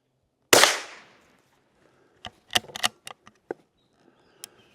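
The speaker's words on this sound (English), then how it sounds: "All right, 3 shots." A rifle fires at an outdoor shooting range: one loud sharp crack with a short decaying echo, then a scatter of faint clicks and small handling taps.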